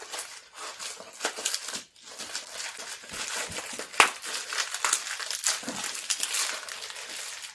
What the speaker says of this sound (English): I'm going to have to tear this open off camera for just a second.